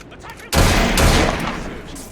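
A musket volley in Assassin's Creed Syndicate bursts out loud and close after a quieter half second, a dense combined crack that rolls on and slowly fades.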